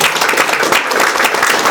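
An audience at a Korean international diplomacy and security forum applauds, a dense, steady patter of many hands clapping at once, sustained and fairly loud throughout.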